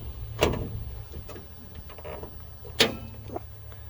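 Hood latch released and the hood of a heavy-duty center-articulating, chain-drive, air-bagged off-road rig with a six-cylinder turbo diesel popped open, giving two sharp metallic clunks over a low steady hum.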